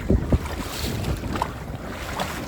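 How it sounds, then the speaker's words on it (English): Wind buffeting a microphone aboard a fishing boat on Lake Texoma, with a steady broadband rush and a couple of heavy low thumps of gusts early on, and no voices. "it actually seems like the wind might be dying down a little bit"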